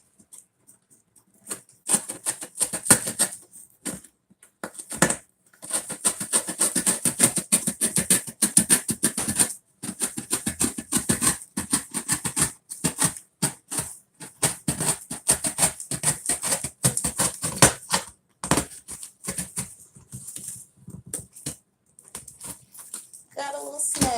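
A piece is cut out of a cardboard box with a blade to make a DIY photography light box, giving rough scraping and sawing strokes in uneven bursts with short pauses, close and moderately loud.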